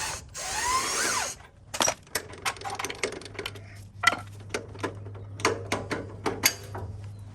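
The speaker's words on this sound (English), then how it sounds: "I'm just gonna apply some force while spinning it with a 19 millimeter, see if I can get it out" Ratcheting and clicking of a 19 mm socket wrench spinning a control arm bolt on a Toyota Sequoia, a rapid series of sharp metallic clicks in short bursts over a low steady hum, close and fairly loud, after a brief rushing noise.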